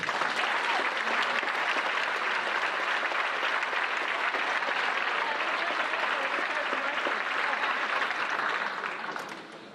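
A conference audience gives a steady, full round of applause welcoming a speaker to the stage, the clapping holding evenly before fading out at the end.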